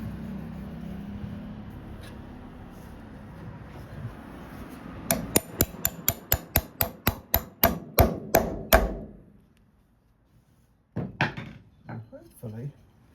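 A coach bolt coated in copper slip is hammered back into a Bedford RL truck: about a dozen sharp metallic blows in a quickening run, then a pause and a few more knocks.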